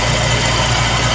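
Toyota 2E engine idling steadily after a cold start with its automatic choke engaged, a loud, close, even mechanical drone with a low rhythmic pulse and no voices.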